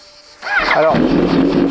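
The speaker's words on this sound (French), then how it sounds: "Et comme premier élément de réponse, on va la démarrer." Bimota Tesi H2 motorcycle with a racing exhaust fired up close: a brief starter whine, then the engine catches and settles into a loud, steady idle rumble, with a short spoken word just before it starts.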